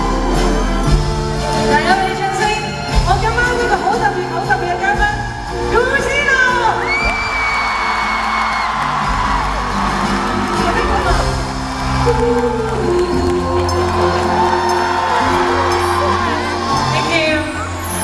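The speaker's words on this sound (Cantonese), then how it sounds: "大家俾掌聲" A concert crowd at a world tour show roars with loud sustained cheering, whoops and shouts that fill the hall throughout, with a voice heard over the noise.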